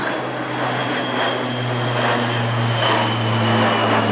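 An airplane passes overhead outdoors, a loud, steady engine drone with a low hum that holds throughout, with faint background noises.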